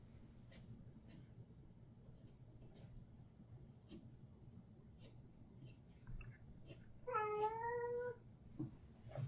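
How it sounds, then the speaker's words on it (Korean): A cat lets out a single drawn-out meow near the end, standing out over soft scratching and faint rustling sounds in a quiet room. "갑자기 고양이가 우네요."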